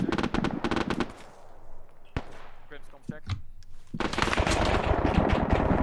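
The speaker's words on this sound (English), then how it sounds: "That's the VADs engaging us." A VADS air defense gun in the ArmA combat game fires long, rapid, loud bursts at the start and again near the end. Voices and quieter scattered sounds fill the gap between the bursts.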